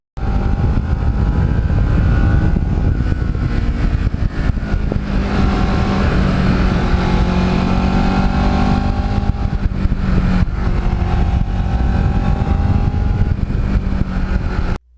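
A Kawasaki Ninja motorcycle ridden on an open road, its engine droning loud and steady throughout with slight pitch shifts as it holds speed, plus wind rush, and no voices.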